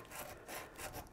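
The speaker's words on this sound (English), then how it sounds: "Sometimes it helps to take a little bit of sandpaper wrapped around a dowel, and then you can just come in here" Sandpaper wrapped around a dowel rubs back and forth against wood, making a soft, faint, rhythmic scratching in three or so short strokes, close by and alone.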